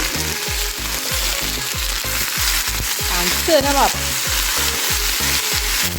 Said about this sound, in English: Now that's sizzle. Listen to that sizzle.